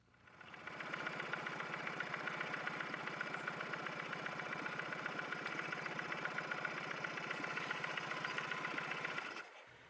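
A small outboard motor on a boat runs steadily at an even idle, its rapid chugging pulse holding constant before cutting off abruptly at the end.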